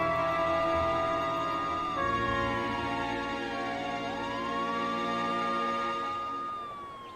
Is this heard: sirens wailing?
yes